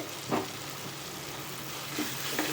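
Coriander leaves going into a pan of tomato chutney being sautéed, giving a steady close sizzle with a few soft stirring scrapes and no talking.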